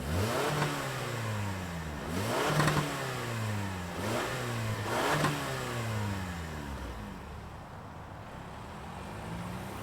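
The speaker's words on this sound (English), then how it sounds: "let's fire this up and hear if it makes any sound." A 2023 Toyota Camry SE Nightshade Edition engine revs repeatedly and loudly, rising and falling about four times in quick succession before settling toward idle, heard close with no talking.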